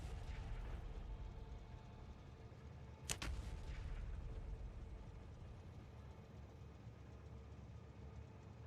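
A lone artillery cannon shot rings out in Factorio Nullius, one crisp crack partway through, set against a constant low mechanical drone that continues before and after.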